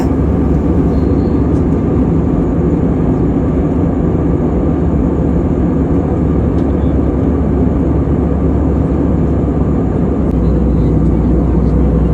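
Inside an airplane cabin on a flight from Vietnam to Hong Kong, a loud, steady engine roar and broadband rushing hum continue throughout without a break.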